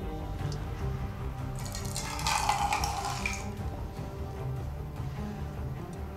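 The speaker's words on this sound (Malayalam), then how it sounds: "വെള്ളം ഇതിൽ നിന്നും കളയുക നോക്കൂ" Rainwater is tipped out of a container that filled up in the rainy season, making a brief splashing gush a couple of seconds long over a steady low background hum.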